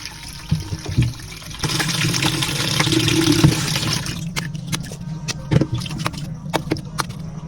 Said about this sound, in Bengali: আমগুলো ছোলা শেষ হলে এর উপর সুন্দরভাবে ভালো করে ধুয়ে নিতে হবে যাতে কোনো ময়লা না থাকে